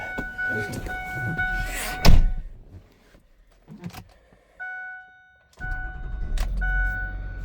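A 2009 Ford F-550 utility work truck with a 6.6L diesel engine is heard with a door thud and a repeating dash chime, then the engine cranks and settles into a low, steady diesel rumble close by.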